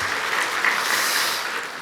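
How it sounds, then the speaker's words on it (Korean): Applause from a church congregation at a Sunday service, honouring children and teachers after a children's contest; steady, dense clapping fills the room evenly throughout and stays at one level. "우리 수고하신 우리 친구들과 선생님들 박수 한번 하겠습니다."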